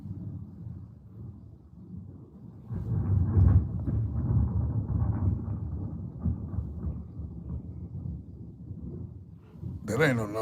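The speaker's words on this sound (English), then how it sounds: "That ain't no normal thunder right there, boy." Thunder rumbling as a long, low, rolling roar that swells and lingers for several seconds indoors, with a brief sharper noise near the end.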